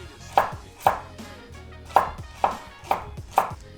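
A knife dicing carrots into small cubes strikes a cutting board six times in a steady, evenly spaced rhythm. Each chop is a crisp, close thud with a short tail.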